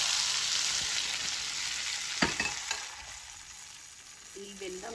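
Hot ghee tempering with asafoetida, poured into pongal and mixed through, makes a bright continuous sizzle that slowly fades, with a couple of spoon clacks against the pot midway.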